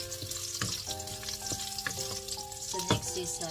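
Ginger frying in a pan for humba, a Filipino braised pork dish: a steady close sizzle with stirring clinks, over a faint background hum.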